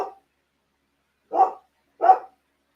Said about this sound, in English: Is the dog too loud for you guys?